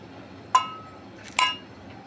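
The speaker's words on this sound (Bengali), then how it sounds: "মিক্সারের জারের ভিতরে দিয়ে দিচ্ছি কিছু ধনিয়া" Coriander seeds go into a mixer jar, producing two bright, close clinks spaced under a second apart over a quiet room background.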